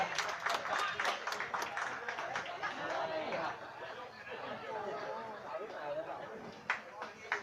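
A crowd at a football cup final claps for a couple of seconds over general chatter, then an announcer talks above the crowd's murmur.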